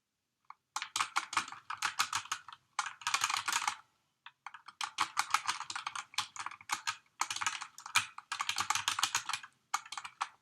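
Rapid typing on a computer keyboard, close and crisp, in several bursts of fast key clatter separated by short silent pauses.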